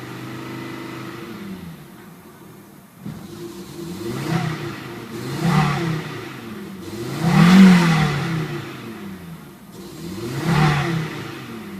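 An Audi UrS6 engine, just after a cold start, stumbles and rises in several uneven revving surges, roughly every two to three seconds, close and loud with no talk.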